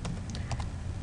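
Fingers tap on a computer keyboard, a short burst of several quick, light key clicks with slightly uneven rhythm, close and clear over a faint low hum.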